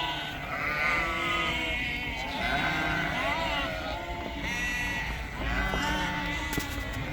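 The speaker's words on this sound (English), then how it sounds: "Sheep everywhere." Sheep in New Zealand bleat repeatedly in a flock, several overlapping wavering cries spread over a few seconds against a noisy outdoor background, with a voice speaking at times.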